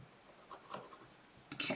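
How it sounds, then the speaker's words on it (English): A pencil scratches short marks on paper against a ruler while making a pop-up card, quiet soft strokes and light rubbing, close and faint, ending with a brief louder scrape. "we're just going to take a pencil and a ruler and mark it at 1 1/2 inches"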